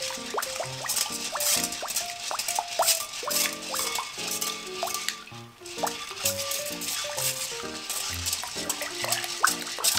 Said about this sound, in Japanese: 無理だったのでスプーンでかき混ぜようと思います。